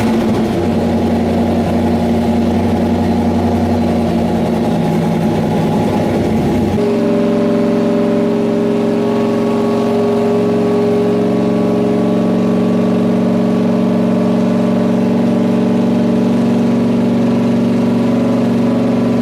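A turbocharged LC9-engined Mustang with a 4-inch turbo exhaust on a dyno runs loud and steady, its rough engine roar shifting abruptly partway through to a smoother, sustained droning tone that holds to the end, with no talking.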